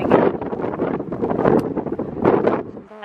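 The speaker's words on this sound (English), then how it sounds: "it's now starting to rain and it's very windy" Strong wind buffets the microphone outdoors as rain comes in on a remote road, gusting in loud, uneven surges that rise and fall throughout.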